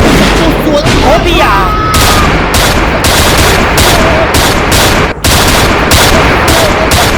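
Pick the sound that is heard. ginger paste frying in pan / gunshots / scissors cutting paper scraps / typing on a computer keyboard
gunshots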